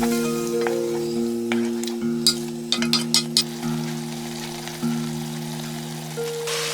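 A spice paste thinned with a little water cooks in a pan on a medium gas flame for a goat curry, giving a soft continuous sizzle with a few sharp pops and spatters over a steady background hum.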